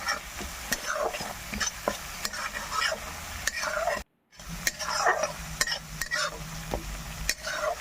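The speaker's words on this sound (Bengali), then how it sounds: "নুন হলুদ খুব ভালোভাবে পোস্ত বাটার সাথে মিশিয়ে নিলাম" A utensil stirs salt and turmeric into poppy seed paste in a pan while cooking a bitter gourd chochhori, giving steady scraping strokes over a soft sizzle, close and continuous apart from a brief pause.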